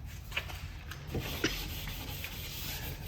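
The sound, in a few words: sanding the edges of a Tyvarian panel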